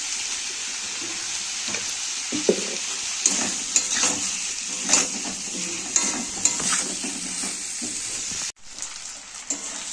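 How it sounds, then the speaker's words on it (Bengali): Pomfret fish and potato pieces fry in hot oil with salt and turmeric, a continuous loud sizzle broken by repeated stirring scrapes and clinks, then a sudden drop and change in the frying sound near the end. "নুন হলুদ দিয়ে মাছটাকে আলুটাকে ভেজে নেব"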